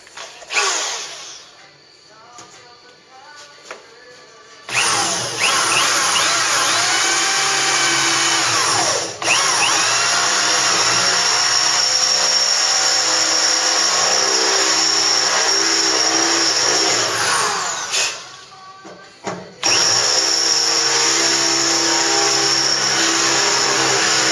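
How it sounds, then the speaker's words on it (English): A power drill runs in long, steady whines, drilling an antenna hole in a 1956 Chevy truck, stopping briefly twice before starting again; close and loud, with no talking. "But I'm going to use a 2564 drill bit to start."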